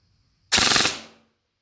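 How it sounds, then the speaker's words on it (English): A single sharp, close shot cracks from a Bruisemaster BB gun fitted with a 50 cm tight bore barrel, firing a ball downrange, then decays quickly into silence. "I'll just put a few balls downrange first."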